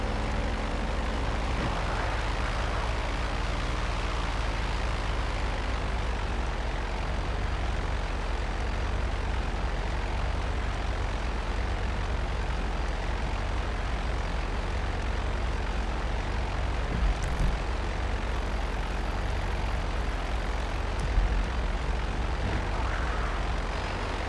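Aircraft engines droning in GTA Online, a continuous loud propeller-plane roar with a slight wavering pitch that holds unbroken throughout, with no talking.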